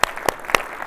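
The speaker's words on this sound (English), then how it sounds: "let's give her a round of applause, right?" At a golf coaches' conference lecture, a few sharp, evenly spaced hand claps ring out, three distinct crisp smacks about a quarter second apart over a quiet room.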